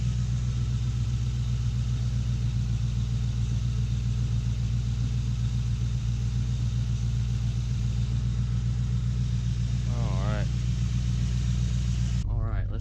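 Steady low rumble of a Ford Crown Victoria engine idling smoothly with new iridium spark plugs, close and continuous, with someone talking over it and a brief squeak near the end.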